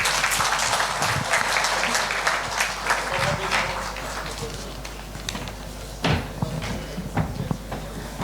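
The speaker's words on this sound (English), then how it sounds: "Once again, a round of applause." An audience at a BSNL award ceremony held at a Kodaikanal hotel venue claps, dense applause that starts loud and slowly thins out over several seconds.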